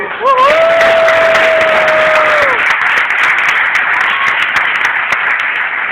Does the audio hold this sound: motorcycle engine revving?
no